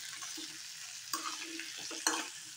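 Cumin potatoes frying in a pan with mint being stirred, a steady soft sizzle broken by two brief scraping stirs of the spatula against the pan.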